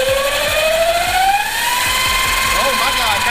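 Electric motorcycle run through a FuelTech FT450, its motor rising in a steady high whine as it is revved up, loud and close, with clicking and rattling beneath it and a pitch that climbs and wavers.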